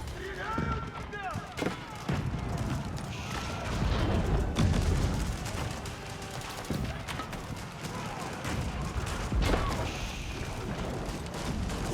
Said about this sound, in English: Now all those Streltsy, look how fast they shoot when they stay.